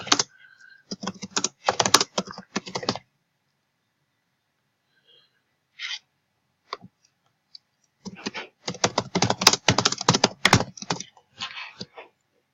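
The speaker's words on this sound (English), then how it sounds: "down here, I can type any comment" Bursts of rapid key clicks on a computer keyboard as a comment is typed, close and clear, with a pause of near silence in the middle broken by a few isolated taps before fast typing resumes.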